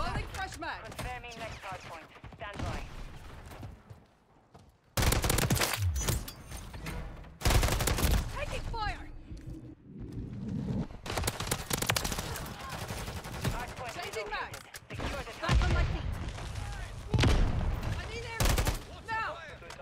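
SVA 545 rifle fire in Call of Duty MW3, repeated loud rapid bursts of automatic gunfire broken by short gaps, with a voice talking between the bursts.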